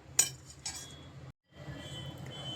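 Urad dal tipped into varagu rice in a metal vessel, giving a sharp clink followed by light rattling, a brief pause, then a soft continuing patter.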